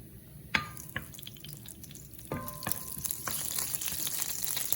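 Half a spoonful of cumin seeds hits hot oil for a beetroot curry, setting off a few sharp crackling pops and then a steadier sizzle that grows louder.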